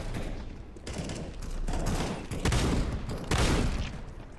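Dense bursts of gunfire in the CS:GO shooter, a rapid fusillade of overlapping shots that swells and recurs in waves across the moment, fairly loud with no talk.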